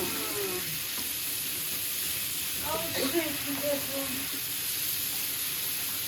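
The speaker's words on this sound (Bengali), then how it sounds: "রান্না করছি বেগুন ভাজি আর পালং শাক দিয়ে রান্না করছি" Eggplant slices for begun bhaji fry in a pan with a steady, even sizzle and hiss, with a few faint clinks and voices around the middle.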